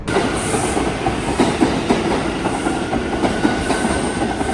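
A train at a city-bound railway station in the USA rolls past with loud, continuous rumbling, rhythmic wheel clatter and faint metallic squeals, with no voices.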